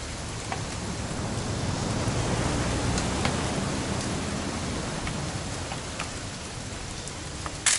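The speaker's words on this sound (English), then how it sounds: "It's gonna rain the whole weekend, isn't it?" Steady rain falls in the video game What Remains of Edith Finch as an even, broadband hiss with scattered faint drop ticks. It runs without a break throughout.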